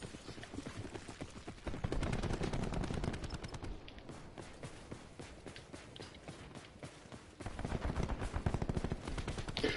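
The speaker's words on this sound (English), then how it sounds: "There is something satisfying with the sound of shooting the guns." Rapid bursts of Call of Duty: Black Ops 4 gunfire rattle continuously, fast and repetitive, with brief pauses between volleys.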